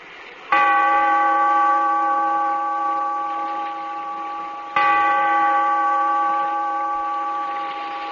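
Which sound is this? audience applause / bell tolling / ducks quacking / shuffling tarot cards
bell tolling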